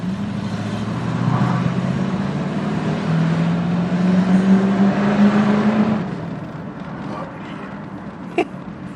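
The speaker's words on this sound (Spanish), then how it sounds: "Un V8 que incluso el sonido podría parecer de un americano" Mercedes-Benz 500SEL W126 V8 engine accelerating from inside the car, a smooth rising engine drone that climbs steadily in pitch for about six seconds before easing off into quieter cruising.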